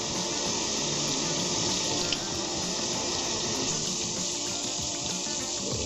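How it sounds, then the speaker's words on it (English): Tap water runs steadily into a sink as a cubic zirconia ring is washed beneath it, a continuous close hiss and splash with no breaks. "You're supposed to wash it very well before you put it in the oven."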